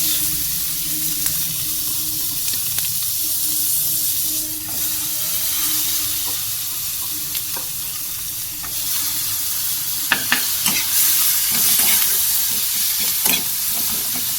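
Onions fry in butter in a kadai for pav bhaji, a steady close hissing sizzle throughout with occasional scraping clicks of a ladle stirring, and no talking.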